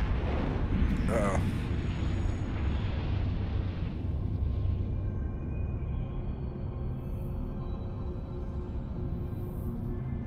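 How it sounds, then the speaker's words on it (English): Weapons fire from an enemy ship in the space game Eve Online: a dense, continuous low rumble of blasts and booms, loud and steady, with a sharper burst near the start before it settles into a sustained roar. "Someone's shooting at me."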